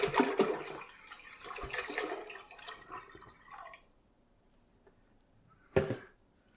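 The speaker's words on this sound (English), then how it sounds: "we want to go ahead and pour that into our larger pot" Zinfandel wine made from concentrate pours and splashes into a pot for a few seconds, fading out, followed later by a short splash.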